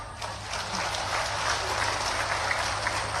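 A crowd at an election rally claps loudly and steadily, a thick continuous wash of many hands close and far with no talking over it.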